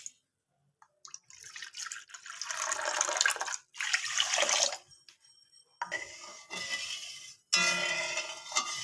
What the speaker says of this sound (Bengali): এ বাটির আমি 2 বাটি জল দেবো। চিনির থেকে আমি ডবল জল দেবো।